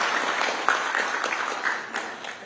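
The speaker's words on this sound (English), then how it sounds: "Another round of applause for our country director." A workshop audience in a hall applauds, giving a dense, steady wash of many hands clapping that fades slightly toward the end.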